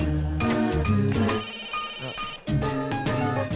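In a Kannada film scene, a phone rings with a loud, melodic electronic ringtone that plays in bursts with a short break in the middle; no one speaks.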